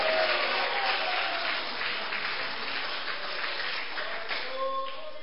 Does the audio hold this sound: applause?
yes